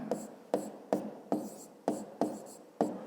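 Pen or pencil scratching across paper while working out a fifth-grade geometry exercise, in seven short, regularly spaced strokes, close and fairly quiet, with no voices.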